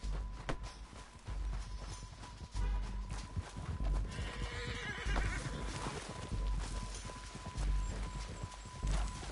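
A horse whinnies while hooves clop steadily over a constant rushing background, Red Dead Redemption 2 game audio, with no talking.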